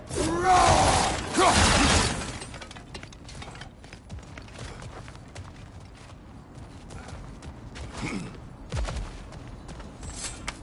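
Objects smashed apart in God of War on PS5, a loud shattering crash at the start followed by quieter scattered cracks, creaks and debris knocks.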